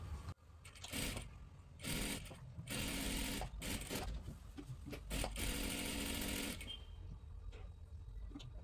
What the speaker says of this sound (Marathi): आणि इथे पूर्ण डबल शिलाई मारून घ्या.